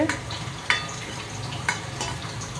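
Garlic sautéing in a pan for tomato thokku gives a short, steady sizzle close by, punctuated by a few quick taps and scrapes of a spoon.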